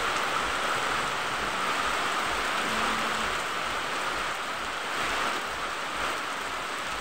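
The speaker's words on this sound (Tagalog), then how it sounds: "Ang lakas ng ulan dito guys." Heavy rain pours steadily, a dense hissing wash with occasional louder surges, no talking heard.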